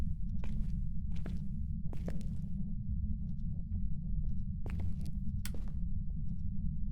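Soft, scattered footsteps in Phasmophobia, a handful of quiet thumps in small clusters spread across several seconds over a constant low droning background, with nobody talking.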